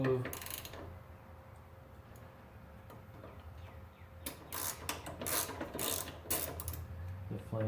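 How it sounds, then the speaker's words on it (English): Bolts on a boiler heat exchanger are loosened with a ratchet, giving short bursts of rapid metallic clicking, sparse at first and then clustered, heard close with a faint background hum. "I'm just going to get the bolts loose right now"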